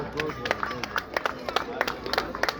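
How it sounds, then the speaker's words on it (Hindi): An audience claps after a recited patriotic song, with sharp separate hand claps scattered fairly close over a murmur of voices. "तालियां"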